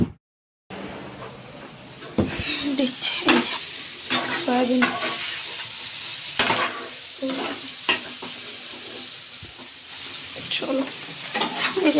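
Soybean curry cooks in a pan at home, with a steady sizzle broken by repeated sharp scrapes and clatters of a spoon stirring against the metal pan, near and fairly loud.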